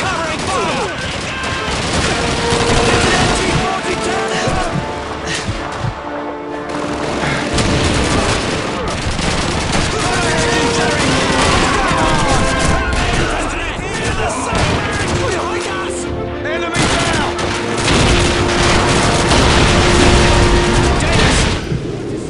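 A Call of Duty 2 battlefield erupts in dense, continuous gunfire with rifle and machine-gun bursts, booming explosions and shouting soldiers, loud and chaotic throughout with hardly a pause.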